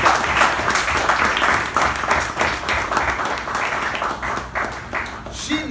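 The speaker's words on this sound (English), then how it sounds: "Can we all give a nice round of applause for our Sergeant, Toastmaster Lakshmi, for a great job done" A meeting-room audience at a Toastmasters installation ceremony gives a round of applause, with sustained, even clapping throughout.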